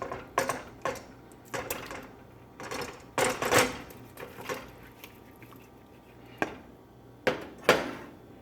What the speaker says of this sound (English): you see me here stirring it to make sure that it doesn't stick to the saucepan I'm cooking it in